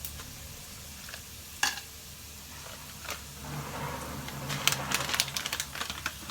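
Aromatics and dry chili flakes sizzle in a pan for Shanghai eggplant with minced pork, a steady low frying hiss broken by sharp scraping clicks of stirring, busier and louder toward the end.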